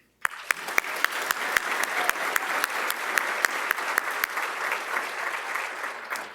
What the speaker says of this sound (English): Let's please give our staff members a round of applause